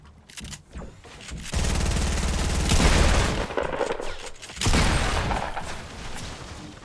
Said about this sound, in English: Getting minigun, dude. From across the map.